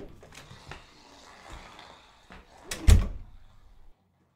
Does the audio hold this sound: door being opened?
yes